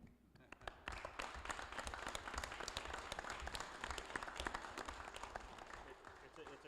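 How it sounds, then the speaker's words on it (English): A committee meeting audience applauds for the children, steady and full clapping that fills the room from start to finish, with a voice faintly present beneath it. "I'd like to applaud you"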